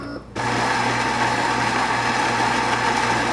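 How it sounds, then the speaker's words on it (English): A Philips 5500 LatteGo EP5544/90 with a ceramic grinder grinds fresh coffee beans, a steady, close mechanical whir that starts abruptly after a brief quiet moment and holds evenly throughout. "Now that the machine has ground the fresh beans"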